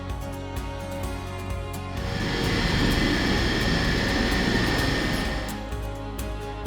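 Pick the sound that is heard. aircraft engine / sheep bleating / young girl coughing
aircraft engine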